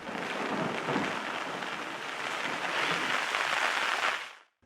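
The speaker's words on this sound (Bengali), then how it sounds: "সন্ধ্যার দিকে শুরু হয় বৃষ্টি" Steady, dense rain pouring down without a break, a broad hiss of drops on surfaces that fades out abruptly near the end.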